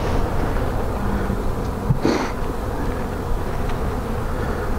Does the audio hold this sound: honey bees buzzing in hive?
yes